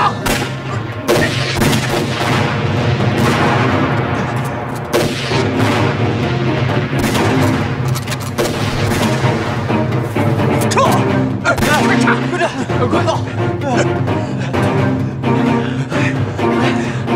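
Gunfire and explosions from a battle scene in a Chinese anti-Japanese war film, with dense, continuous shooting and booms over a thick music score, loud throughout, with brief shouted voices.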